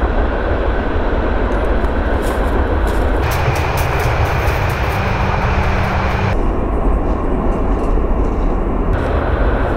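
A loud, steady rumble of a train rolling past nearby, its roar shifting in tone partway through, with no voices.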